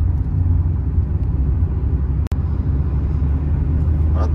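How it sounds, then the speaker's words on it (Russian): A 1999 Hyundai Lantra with a 1.6 engine and air conditioning drives along, its engine giving a steady, loud low rumble from inside the car, with one very brief dropout midway. "едет автомобиль, переключается, работает. Двигатель тоже справляется."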